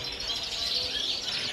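Canaries sing at a bird market in a continuous, bright, trilling stream of chirps and warbles, fairly close and steady throughout with no voices.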